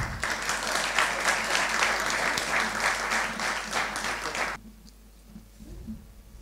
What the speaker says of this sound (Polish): a my bijemy brawo